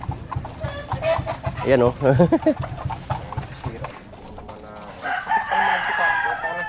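Pet chickens cluck around a feeding spot while a rooster crows partway through, close and fairly loud, with someone talking intermittently over the birds.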